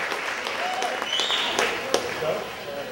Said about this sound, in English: So everyone, please give a nice round of applause for Mr. Chris DeLisa here tonight.